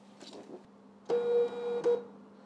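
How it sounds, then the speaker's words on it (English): An XPrinter XP-365B thermal label printer is shut with one plastic snap. A brief mechanical whir and electronic beeps follow, all close and quiet against a low hum. "so let's close the printer"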